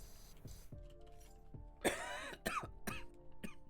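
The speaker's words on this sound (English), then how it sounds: "Sorry about all the coughing tonight" A sick woman coughs and clears her throat indoors, several harsh, close bursts in quick succession with a quiet electronic hum behind them and no speech.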